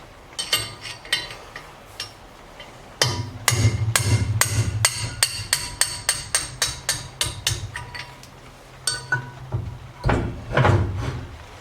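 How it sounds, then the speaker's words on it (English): Hammer blows drifting out a worn thin-wall valve guide on a V8 cylinder head, a run of sharp metallic strikes in irregular bursts, some quick and evenly spaced, others separated by short pauses, loud and close. "Just need to find something to drift that out with."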